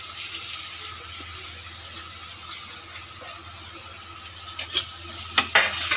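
Grated onions dropped into hot oil with cumin seeds and bay leaves, a soft continuous sizzle close by, with sharper stirring scrapes and clatters near the end.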